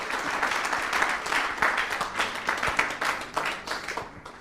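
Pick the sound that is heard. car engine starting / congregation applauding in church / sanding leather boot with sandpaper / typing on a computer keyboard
congregation applauding in church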